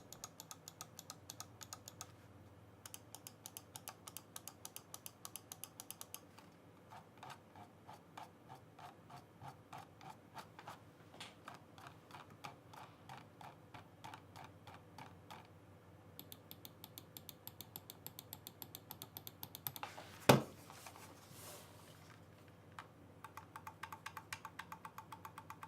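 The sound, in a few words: Ninox Venator computer mouse button clicks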